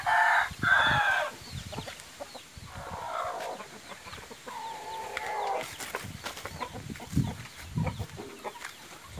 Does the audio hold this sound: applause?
no